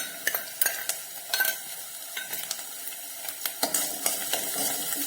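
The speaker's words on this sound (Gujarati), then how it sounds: "અને આ બધા જ મસાલા સાથે આપણે સાતળીશું" Ginger-garlic paste and spices sauté in a pan for dry cabbage manchurian, with a steady sizzle broken by repeated sharp scrapes and clinks of a spoon stirring, close and irregular.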